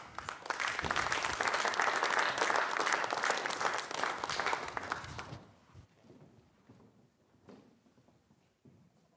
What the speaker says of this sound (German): machen Sie einen ganz großen Applaus für Henrik Santu